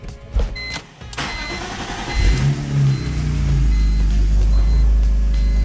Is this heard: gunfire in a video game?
no